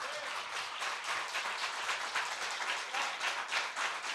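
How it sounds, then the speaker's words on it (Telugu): A church congregation claps along during a sermon, a steady rhythmic patter of many hands kept fairly soft and distant. "వినే వాళ్ళంతా చప్పట్లు కొట్టండి."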